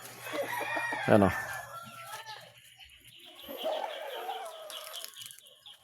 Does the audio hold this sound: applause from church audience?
no